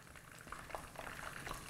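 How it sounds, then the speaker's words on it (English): Tempura eggplant and other battered vegetables frying in hot oil, a steady crackling sizzle with scattered small pops, close and fairly quiet, no talking. "While these are frying, we're going to make our dip."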